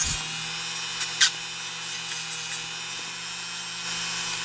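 A spinning security pin on a lathe-like tool sanded with sandpaper, giving a continuous high whine with steady tonal hum and a few brief scratchy bursts, close and moderately loud, no speech.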